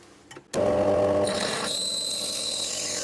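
A lathe parts off a piece of metal, starting abruptly with a loud steady whine and a high ringing squeal that holds to the end.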